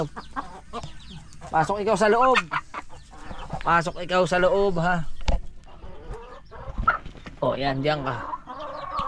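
Chickens cluck and squawk nearby in busy, overlapping calls, while a person speaks briefly among them.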